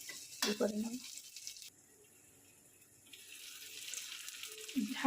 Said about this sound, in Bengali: এগুলোকে একটু ভালো করে নাড়াচাড়া করে নেব, হালকা একটু সিদ্ধ করে নেব